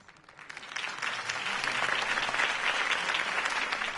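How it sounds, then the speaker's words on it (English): Crowd applause in a video game, a sustained wash of clapping that swells after a campaign speech and holds steady and loud throughout. "If only Mr. Wayne, my campaign's largest backer, could have heard that applause"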